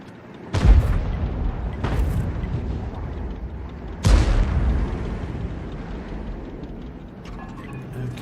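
Artillery fire and shell impacts in the World of Tanks video game from a GW E100: three sharp, loud booms spaced a second or two apart, each followed by a rumbling decay.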